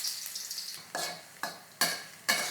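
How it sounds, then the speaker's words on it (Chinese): Ginger slices sizzle in hot oil in a wok, a steady close crackle broken by four sharp spatula strokes scraping and tossing them in a quickening rhythm. "锅热下油 差不多就好首先我们先下姜片，"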